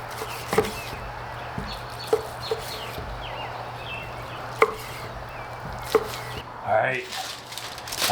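A knife chops smoked wagyu brisket into one-inch cubes for burnt ends, giving sharp, irregular knocks on a board. A rooster crows in the background of an outdoor setting.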